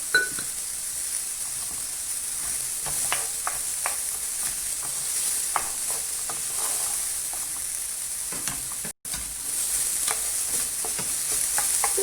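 Leeks sautéing in a pan until caramelized, with a steady close sizzle and frying hiss, plus occasional stirring scrapes and light clinks that continue alone with no talking.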